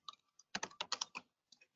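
Quick bursts of typing on a computer keyboard, close and crisp, a short flurry of keystrokes between brief pauses in an otherwise quiet room.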